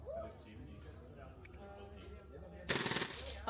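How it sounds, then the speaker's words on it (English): Scorpion submachine gun in the DayZ video game firing a short full-auto burst near the end, loud and close, after a stretch of quieter background game ambience with a voice talking. "The Scorpion. DayZ. Single fire. Dude, this thing on full auto."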